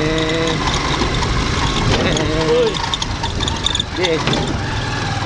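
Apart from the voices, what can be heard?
motorcycle tricycle engine pulling away in first gear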